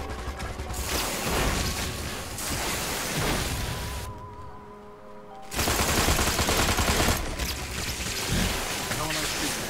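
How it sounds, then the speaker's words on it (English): Rapid turret gunfire rattles through a Destroy All Humans game battle, dense and continuous with bursts of heavy firing, briefly cutting out before resuming loudly, mixed with game noise. "Holy crap, that's some kind of turret."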